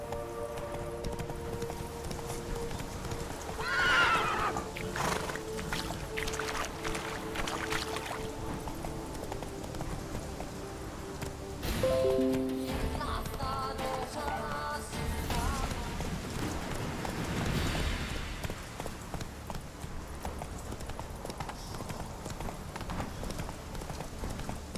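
Hooves of the horse Roach clip-clopping in The Witcher video game, a near, fairly quiet rhythmic run of hoofbeats with a few brief tonal game sounds and a rising whoosh partway through.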